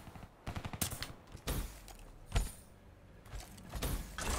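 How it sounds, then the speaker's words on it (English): Bursts of Man O' War rifle gunfire in the Black Ops 3 video game, several short volleys at uneven intervals with sharp loud cracks, heard alone without talk. "I need to get the fire rate on this Man of War higher."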